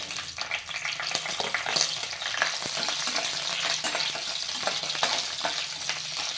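Curry leaves and green chilies fry in a pan for bottle gourd palya, giving a continuous crackling sizzle dotted with quick clicks and stirring scrapes throughout.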